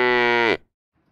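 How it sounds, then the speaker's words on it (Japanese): A cow gives one long, loud, clear moo lasting about half a second, then stops abruptly and leaves near silence. The sound is alone with no talk. "正解は牛でした。"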